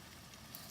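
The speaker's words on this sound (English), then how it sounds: "Hear that sizzle? You don't want to crowd your skillet." Sausages sizzle in a hot skillet for a keto sausage sandwich, giving a faint, steady broadband hiss with no break and no voices.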